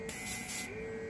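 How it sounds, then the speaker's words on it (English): Airbrush hissing steadily as it sprays paint onto a small miniature figure, a continuous close, moderately loud airy spray with a brief stronger burst early on and no talking. "Frankenstein airbrush, don't fail me now."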